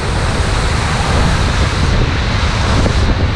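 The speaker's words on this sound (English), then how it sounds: "Look at these waterfalls" Roaring waterfalls swollen by spring flooding in Bracebridge, Ontario rush in a continuous, loud broadband wash, heard close up with no talk.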